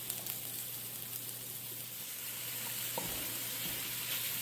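HEB pork sausage sizzles and fries in hot fat in a pan with the heat turned up, a steady close crackling hiss that grows slightly louder partway through, with occasional clinks and stirring sounds.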